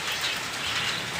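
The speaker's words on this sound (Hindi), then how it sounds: "देखें भाई कितनी तेज़ बारिश हो रही है" Heavy rain pours steadily on a rooftop shelter in the evening, a dense, close, unbroken hiss with no voices.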